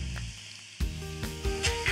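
Garlic and chili tempering crackling in hot oil in a pan, a steady close sizzle with sharp popping bursts starting abruptly partway through and continuing with bright spatters.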